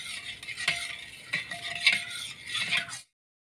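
A spoon stirs curd with sugar and salt in a bowl for fasting-style dahi vada, giving soft repeated scraping and clinking strokes for about three seconds before stopping into silence.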